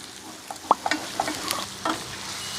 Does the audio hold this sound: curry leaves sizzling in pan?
yes